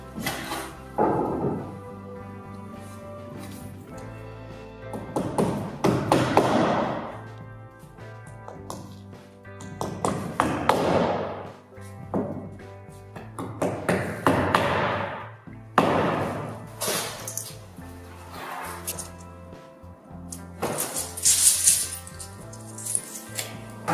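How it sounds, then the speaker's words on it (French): A hammer nails the ridge of a flat-roofed wooden Tendille garden shed, with scattered thuds and knocks at an uneven pace, some close and sharp and others softer, across the whole stretch. "Je cloue le fêtage de l'autre côté."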